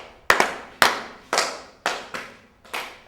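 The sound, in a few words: group passing claps quickly around a circle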